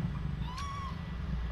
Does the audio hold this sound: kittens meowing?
yes